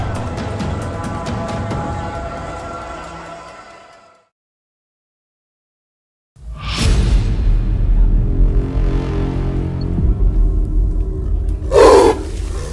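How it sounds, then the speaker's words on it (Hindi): A tiger trapped inside a village well in Hardua, Chhindwara, gives deep rumbling growls and roars that echo, broken by a pause, with a sharper cry near the end. "एक बाघ कुएं में गिर गया, जिसके बाद कुएं से गुर्राने की आवाज सुनकर कुछ ग्रामीण कुएं के पास पहुंचे"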